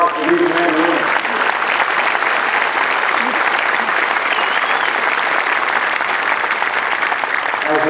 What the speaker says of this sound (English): Please join me in a round of applause for these men and women.